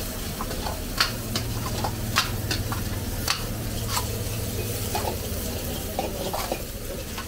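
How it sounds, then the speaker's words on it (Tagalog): Cabbage and capsicum stir-fried in oil in a wok for Manchurian, a steady sizzle broken by repeated sharp clinks and scrapes of a spatula against the pan. "Nilagyan nila ng oil. Pagkatapos, lalagay nila yung cabbage. And then, capsicum. And mix it all together."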